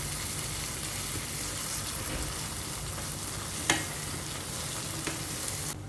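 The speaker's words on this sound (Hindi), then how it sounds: "तो ये देखिए हमारा मसाला बहुत ही अच्छे तरीके के साथ भुन चुका हुआ है।" Blended tomato masala fries in a pan with a continuous dense sizzle and bubbling, close and even, broken by a couple of faint clicks near the end.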